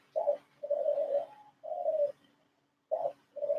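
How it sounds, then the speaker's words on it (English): An outdoor bird, pigeon-like, coos loudly and insistently in five close, repeated phrases with short pauses between them, clear and nearby with no talking. "And that bird, holy shit. He won't shut up."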